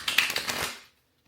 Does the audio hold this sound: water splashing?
no